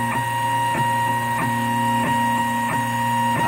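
3D printer building a blue robot figure, a steady whining motor hum with faint regular ticks roughly every two-thirds of a second, running continuously with no talking.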